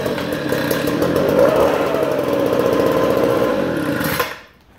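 A lawn mower engine starts on a single pull and runs at a steady, loud, close chatter for several seconds before cutting off abruptly.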